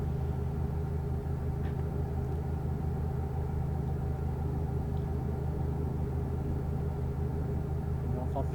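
A Renault truck's engine in Euro Truck Simulator, with the engine warning light on, produces a constant deep rumbling drone at steady revs, loud and unbroken, with no talk over it.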